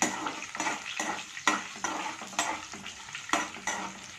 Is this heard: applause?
no